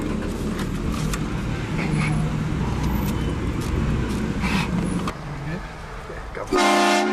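A loud, sudden train horn blast, set off as a prank, cuts in near the end over steady street traffic noise with passing cars.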